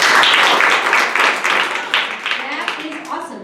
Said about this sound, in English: Please clap if this is your first time here.